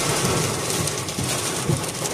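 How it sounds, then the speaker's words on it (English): Dense, steady heavy rainfall roars close by at a garden center, with low rumbling beneath of thunder. "It's thundering and lightning"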